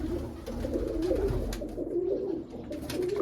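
Pigeons coo in a loft, among them a black pair with a black chick in the nest, soft repeated low coos close by over a steady background hum.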